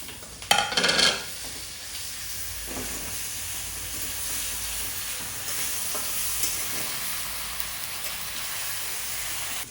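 Ginger garlic paste sizzling in a hot pan while cooking crab curry, a steady close hiss of frying with a sharp burst of spatter at the start and faint stirring scrapes throughout.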